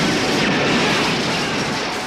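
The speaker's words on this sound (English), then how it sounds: "Before they can talk further, gunfire erupts." Dense, loud bursts of gunfire and explosive booms blend into a continuous roar of chaotic battle noise.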